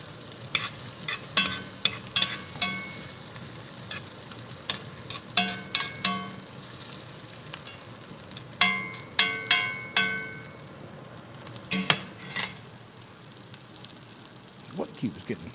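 Onions frying in a pan for hamburger steak with cheese and onions, a soft steady sizzle broken by repeated sharp scrapes and clanks of stirring, close and fairly quiet.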